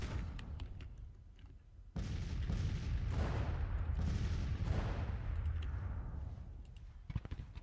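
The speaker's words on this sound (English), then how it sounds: "We have rifle fire now." Rifle volleys from a Grand Tactician: The Civil War battle at Perryville crackle as a dense, continuous rolling roar of gunfire for several seconds, with sharper scattered shots at the start and end.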